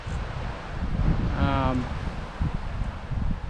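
Gusty wind buffets the microphone outdoors in rough, uneven surges of low rushing noise, with a short voice-like sound partway through.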